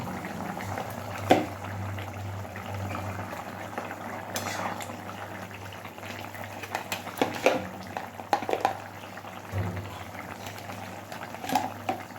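A pot of thin fish curry with potato and pointed gourd simmers at a steady boil, a continuous bubbling texture with a few brief clinks, close and moderately loud with no talk.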